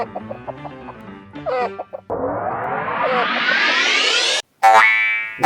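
A cartoon hen clucks in a quick string of short notes, followed by a long rising boing-style sound effect and a sharp loud burst, with no speech.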